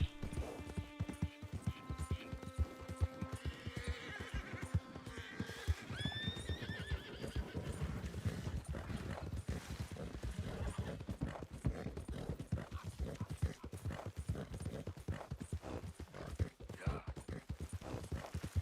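A Mustang horse in Red Dead Redemption 2 lets out a clear, close whinny near the start. Steady clip-clop hoofbeats follow and continue throughout as the horse moves along.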